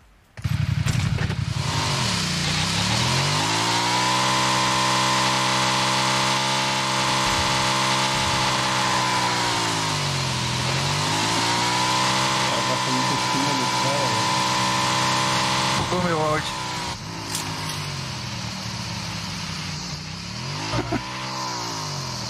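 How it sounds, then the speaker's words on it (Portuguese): A motorbike engine in a video game drones loudly and continuously, its pitch swooping down and back up as it revs. A player's voice talks over it now and then. "vou pegar a motinha aqui, tem uma motinha aqui"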